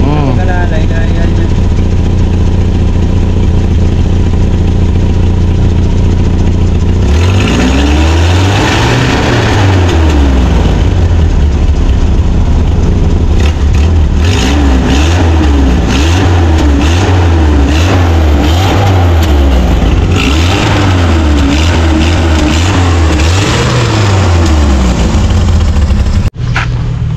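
A loud car engine idles and then revs repeatedly in rising and falling sweeps, with rough backfire pops from a leaking exhaust and voices talking underneath.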